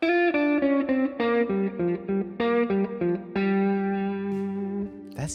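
Electric guitar with a reverb plugin playing a short lead line of picked and sustained notes ending on a held chord, near and loud, with a roomy wash trailing each note and no talking.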